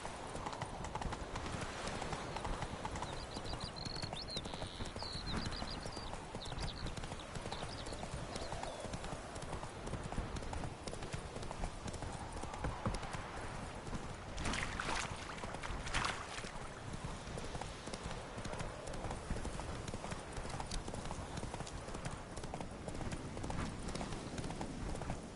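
Geralt's horse Roach galloping in The Witcher 3: Wild Hunt, rapid rhythmic hoofbeats pounding steadily and close over a continuous outdoor ambience, with a brief whinny-like sound partway through.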